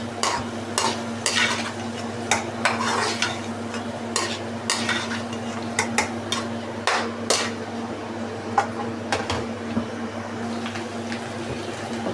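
A spoon steadily scrapes and clinks in a pan as soy sauce, chili sauce and vinegar are stirred into chicken pasta over a continuous low sizzle and hum, with irregular clatters through the whole stretch and no talking.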